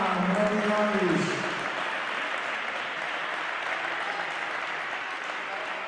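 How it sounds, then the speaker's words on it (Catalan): Applause at a basketball tournament trophy ceremony for the Club Esportiu Costa Daurada team, a sustained crowd clap heard over a brief voice at the start that fades out, continuing evenly to the end. "fort aplaudiment pel Club Esportiu Costa Daurada"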